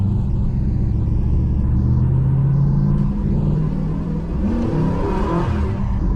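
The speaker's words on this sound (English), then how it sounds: "Yeah, it just spun the tires like crazy when it shifted up in the second." A 1978 Chevrolet El Camino, freshly fitted with a 3.73 rear end, rebuilt transmission and tune, pulls away from a standstill on a wet road, its engine rumbling and rising in revs as the tires spin, loud and close.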